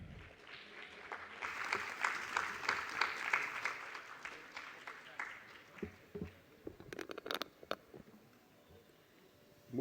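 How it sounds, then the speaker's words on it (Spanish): Audience applause at a feminism conference panel at a book fair, a dense burst of clapping that swells and then thins out into scattered claps before fading. "Fuertes aplausos,"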